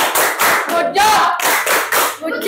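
A classroom of students performing a rhythmic clapping chant, loud close claps grouped in distinct bursts with short gaps between them, following a set pattern.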